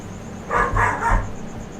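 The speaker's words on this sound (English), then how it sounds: "What do you think the dog's barking at?" Three muffled dog barks in quick succession, somewhat distant and moderately loud, over a steady background hum, with no talking.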